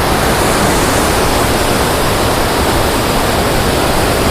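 Water plunges down the Kanoor waterfall in Uttara Kannada, Karnataka as a constant, heavy rushing roar, loud and close, with no pauses and no speech.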